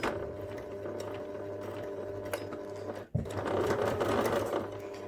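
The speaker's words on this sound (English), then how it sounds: "We'll do a few reverse stitches." A sewing machine running steadily through fabric while sewing reverse stitches, a close, even mechanical whir with one brief pause partway through before it resumes.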